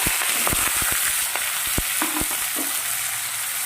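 Garlic, tomato and onion fry together in a pan with a steady, loud broadband sizzle, punctuated by scattered sharp pops and clicks of a spoon stirring throughout.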